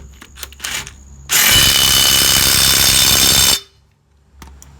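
A DeWalt DCF902 12V 3/8-inch impact wrench tightens a fastener in one loud, sustained rattling hammer burst of about two seconds, close by, with quieter handling noises before and after.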